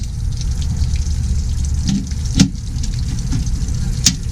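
Water drains steadily from the fresh water tank of a Little Guy Max camper trailer, a continuous close splashing flow with a few brief knocks and clinks over it, no talking.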